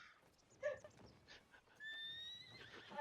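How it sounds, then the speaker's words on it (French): A horse gives an excited neigh, a shrill whinny rising and wavering over a second or so after some scattered clip-clop of hooves and snorting; fairly faint and set back, with no voices. "il me saoule ce cheval, mais en plus, il est en train de s'exciter là"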